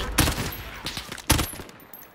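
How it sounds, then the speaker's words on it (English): Video game gunfire rattles in two sharp bursts, the first near the start and a heavier volley just past the midpoint, with scattered quieter shots between. The shooting is loud and close, with no talking. "Where are we getting shot from?"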